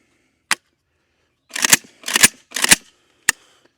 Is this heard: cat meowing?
no